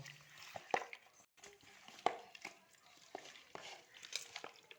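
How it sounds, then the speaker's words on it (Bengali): Chicken being mixed by hand with oil, salt and spices in a bowl, giving soft wet squelching and stirring noises with a few sharper clicks. The sounds come close up and fairly quiet, with no talking. "এইগুলো দিয়ে আমি এখন ভালো করে হাত দিয়ে কষিয়ে নেব"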